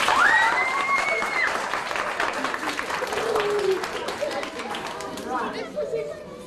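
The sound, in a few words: audience applauding President Cyril Ramaphosa at school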